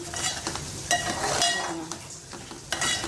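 Masala is stirred into a wild vegetable frying in a pan, with a steady sizzle under scraping spatula strokes and occasional light clinks against the metal, close and moderately loud.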